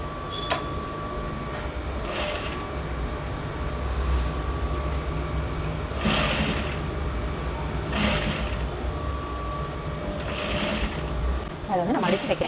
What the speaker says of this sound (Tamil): அதை வந்து நான் மடித்து தைக்கிறேன்